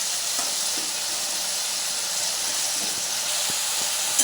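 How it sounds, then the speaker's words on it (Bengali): Masala fries in a pan with a splash of water, making a continuous steamy hiss and sizzle with a few faint clicks of stirring, moderately quiet and without speech. "একটু জল দিয়ে একটু যদি মানে মশলা যদি একটু কষিয়ে নিই"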